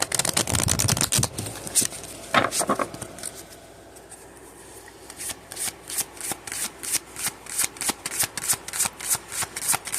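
Celtic Spirit oracle cards shuffled close by: dense riffling at first, a short lull, then a steady rhythmic series of crisp card slaps, with no voice.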